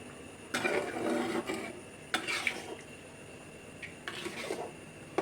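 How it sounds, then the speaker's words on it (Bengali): A spoon scrapes as chana dal is stirred into a spice mixture in a pan, in several separate rasping strokes with short pauses between them and a faint sizzle underneath. "এবার মশলাটার মধ্যে ডালটা ভালোভাবে মিশিয়ে নেব।"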